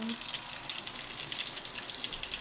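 Boneless milkfish (bangus) frying in hot oil gives a constant dense sizzle and crackle, close and even throughout with no pauses.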